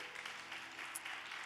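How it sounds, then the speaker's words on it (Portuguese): Faint, steady applause from a church congregation during a sermon, a continuous wash of clapping heard from a distance with no voices over it. "No nome de Jesus, se você crer, diga amém, e aplauda ao Senhor."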